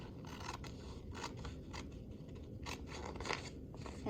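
Scissors snip through paper with a steady run of short, close crunching cuts, following dotted lines on a cutout sheet in a quiet room.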